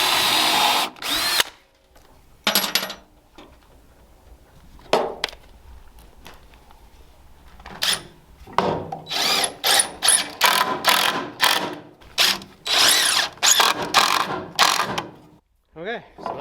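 Power drill driving screws into a reclaimed wood goat hay feeder, a series of short close whirring bursts with brief pauses between them, a few separate runs early then a dense cluster of drive cycles toward the end.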